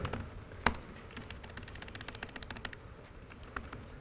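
Typing on a computer keyboard during a computer technology conference presentation: a quick run of light, irregular key taps with a sharper click early on, fairly close and with no talking.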